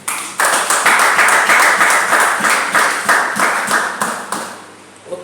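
Congregation in a church breaks into loud, sustained applause with clustered rhythmic clapping, holding strong for several seconds before fading toward the end.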